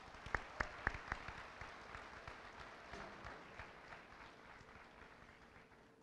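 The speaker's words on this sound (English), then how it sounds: "let's give an applause to our Board of Education" Faint applause from the audience at a 2021 high school commencement ceremony, opening with a few distinct sharp claps and then settling into a soft, distant, steady patter.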